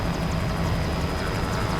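A helicopter flies low over a running rhino in the Kenyan bush during a wildlife relocation. Its engine and rotor roar form a loud, steady wash of noise throughout the short stretch.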